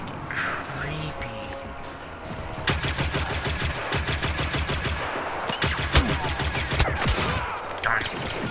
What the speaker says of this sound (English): Especially when you just hear explosions and people dying.